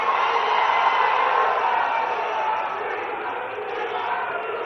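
A large crowd fills an outdoor public rally in Adilabad for the chief minister with a steady, loud roar of cheering and clapping, sustained and dense throughout with no pauses.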